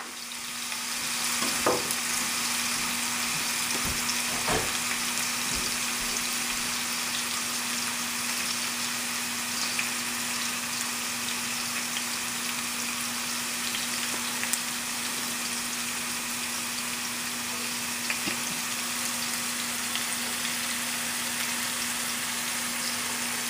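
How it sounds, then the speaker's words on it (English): Fresh ginger frying in a pan for pad thai gives a steady, close sizzle that runs unbroken throughout, with a few sharp stirring clicks early on and no talking. "To this, I am also going to add our fresh ginger."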